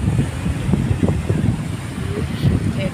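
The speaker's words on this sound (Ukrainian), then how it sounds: "Який вітер." Steady wind at the seaside in Italy buffets the microphone with low rumbling gusts, broadband noise persisting throughout, with a few faint voices underneath.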